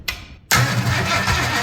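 An old Ford 460 big-block V8 bought cheap cranks on the starter after a fresh positive battery cable goes on, a short blip followed by loud, steady cranking churn close up.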